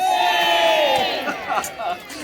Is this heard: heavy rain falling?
no